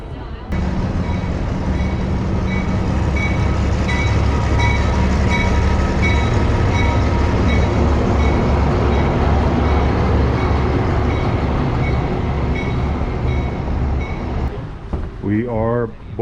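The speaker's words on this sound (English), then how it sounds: "Now they're going to bring the engines by and connect them to the other end of the train." Heavy locomotive engines of the Georgetown Loop Railroad in Georgetown, Colorado rumble loudly and steadily as they roll past up close, with faint whining tones and a squeal trailing off at the end.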